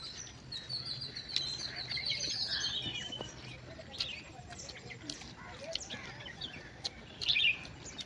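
Crows and sparrows call outdoors in a natural spot in rainy weather, with scattered high chirps and tweets over a steady background hiss. The calls are moderately distant and continue throughout, with a brief louder burst near the end.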